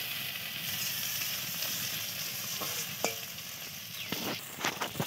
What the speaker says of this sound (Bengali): দেখো পেঁয়াজগুলো এবারে ভাজা হয়ে গেছে লাল করে।